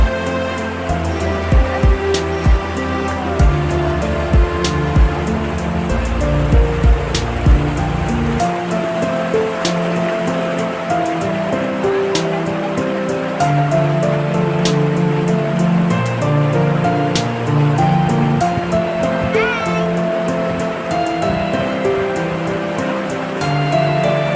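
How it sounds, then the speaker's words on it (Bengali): Strong current of the Guayi River rushing past below a road, a steady loud broadband roar of water that persists throughout with some low rumbling. "এই যে জল যাচ্ছে, প্রচণ্ড স্রোত।"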